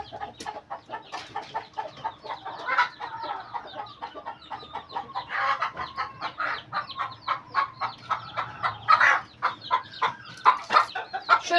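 A hen clucks steadily while being held, a rapid run of close, loud, repeated clucks and squawks with short pauses and no talking.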